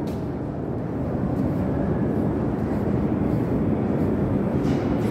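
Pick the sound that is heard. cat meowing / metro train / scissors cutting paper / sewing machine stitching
metro train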